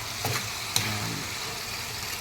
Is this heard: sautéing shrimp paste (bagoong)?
yes